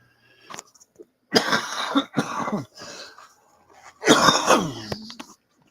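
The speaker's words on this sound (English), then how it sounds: "I apologize for the cough." Several harsh, chesty coughs from a cold in separate bursts, close by, with brief silences between them and a final heavy coughing fit.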